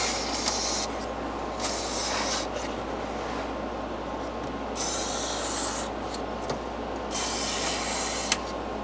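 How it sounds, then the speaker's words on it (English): Close hissing bursts from an aerosol duct cleaner can sprayed into a Mitsubishi Lancer's fan and vents, several sprays of a few seconds each with short pauses between, over a low steady engine-like hum. "I'm gonna spray some of this duct cleaner and in the fan and in each vent."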